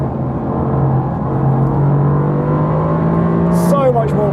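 A Mercedes-AMG GT R Pro's engine accelerates hard with a loud, steady, close droning note that climbs in pitch toward the end.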